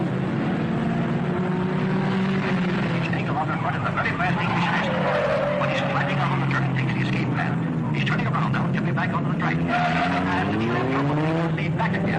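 Race cars from the 1950s speed through a turn, engines whining and rising in pitch as they pass, while a commentator talks over the noise.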